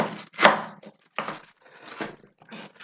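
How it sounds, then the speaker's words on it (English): A knife cuts through the top part of a cabbage with a sharp crunching chop, followed by a few softer, separate cutting and handling sounds close by. "I'm going to remove this upper part of the cabbage"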